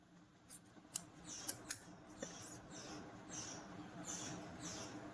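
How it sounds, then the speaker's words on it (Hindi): Scissors snipping through a fabric piping strip for a blouse, several sharp close cuts at an uneven pace, followed by softer rustling snips. "तो इसको मैं कैंची से कट करके बराबर करूँगी"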